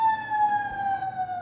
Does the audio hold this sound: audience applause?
no